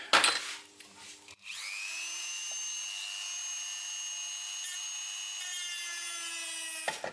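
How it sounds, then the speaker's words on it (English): A rotary tool with cutting heads and then a sanding disc whines at a steady high pitch as it grinds and sands a prop rifle part, after a brief rough scraping start, and stops abruptly at the end. "changing to gentler cutting heads and then a sanding disc"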